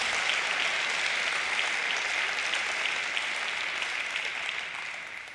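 Congregation applauding during an evening worship service, a steady wash of clapping from a large room that slowly fades toward the end.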